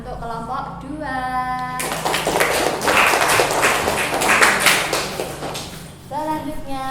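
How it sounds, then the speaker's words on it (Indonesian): Children in a classroom give applause for a student group, a burst of fairly close clapping lasting several seconds, with an adult voice speaking before and after it. "Tepuk tangan untuk kelompok 2."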